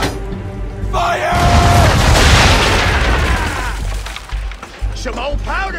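Ship cannons in Assassin's Creed III fire a broadside at sea, a heavy booming roar that swells and rumbles for several seconds before fading, with game voices shouting over it.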